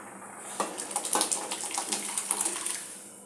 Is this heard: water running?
yes